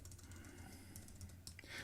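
Someone types a prompt on a computer keyboard, a quick run of soft, close key clicks in steady rhythm over faint room hum, with no talking.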